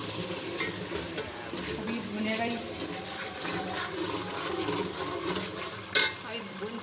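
Masala with salt and turmeric roasts in a pan for egg kofta curry, giving a steady soft sizzle with a spoon scraping and stirring close by, a voice speaking over it, and a brief sharp clink near the end.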